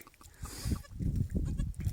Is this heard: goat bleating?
yes